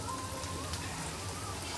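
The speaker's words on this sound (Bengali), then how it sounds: "লাউ আর আলুটা কষাইতাছি" Bottle gourd and potato sauté in a salted kadai, giving a steady, even sizzle that hisses without a break throughout, close and alone with no voices.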